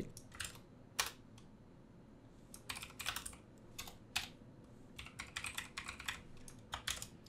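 Quiet computer keyboard typing while drafting a screenplay, made of scattered clicks and short flurries of keystrokes with irregular pauses, faint and close in an otherwise silent room.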